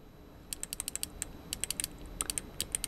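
A small electrical switch is flicked on and off over and over on a bench where a power supply for a DC arc demonstration is set up. The crisp clicks come close and fairly quiet, in quick irregular bursts with short pauses between them, and no one speaks.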